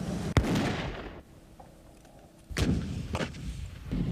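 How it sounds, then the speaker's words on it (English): Marines fire a Dragon guided anti-tank missile: a sharp, heavy blast followed by a rushing roar that fades, then a second loud blast and rumbling crack a couple of seconds later. "the Marines use the Dragon, guided anti-tank missile"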